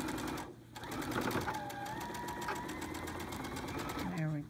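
A quilting sewing machine in hover mode stitching binding: a steady, close mechanical whir with rapid needle ticks and a brief pause, while a person talks over it.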